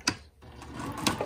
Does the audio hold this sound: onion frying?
no